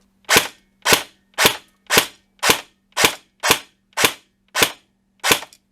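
A Classic Army CA5A2 MP5 airsoft gun fires ten sharp semi-automatic shots, evenly spaced about half a second apart, each a loud, close snap with a quick decay and no voices.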